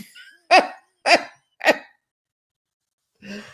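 A dog barks three times in quick succession, loud and close, followed by a short pause and a fainter rough bark or vocal sound near the end.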